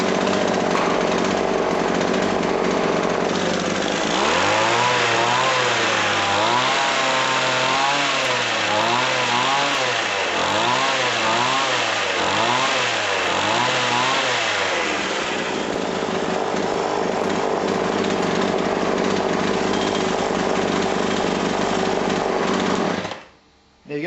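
A McCulloch hedge trimmer's small two-stroke engine runs loudly and continuously, revving up and down in a wavering pattern through the middle before settling back to a steady idle and cutting off at the end.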